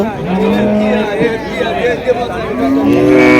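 A native dairy cow lows at a crowded Comilla cattle market, with long drawn moos at the start and end while several people talk nearby throughout.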